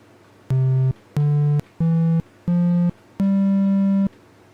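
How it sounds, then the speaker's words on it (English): Synthesized triangle wave tones from a code-built software oscillator: five moderately bright notes, softer than a square wave but fuller than a sine, stepping up in pitch with the last held longest, loud and alone over a faint hum. "Now let's change it to our triangle wave."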